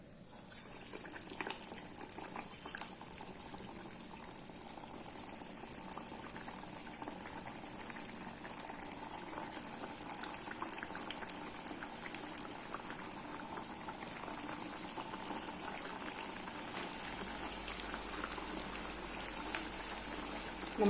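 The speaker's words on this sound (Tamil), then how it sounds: "கடாயில் நான் எண்ணெய் ஊற்றி வச்சிருக்கேன். இப்போ நம்ம வடை ஒன்று ஒன்றா எடுத்து தட்டி போட்டுடலாம்." Mint masala vadas, pudina paruppu vada, fry in hot oil in a kadai, giving a close, steady bubbling sizzle that holds evenly for about twenty seconds without talk.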